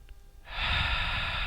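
Someone inhales deeply through the nose and mouth during a pelvic floor exercise, a quiet start giving way to a long, steady airy breath that holds until the end.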